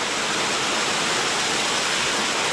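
Close, steady roar of the waterfall at Plitvice Lakes National Park, a broadband wash of falling water with no pauses and no voices, loud and continuous from start to end.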